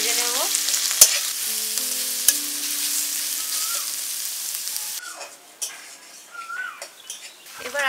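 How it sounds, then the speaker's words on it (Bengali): Chopped onions sizzling in hot oil in a pan for a soybean curry, with a utensil scraping and stirring in short bursts and metal clinks over a steady fry. "পেঁয়াজটা ভালো করে একটু লাল লাল করে ভেজে নেব।"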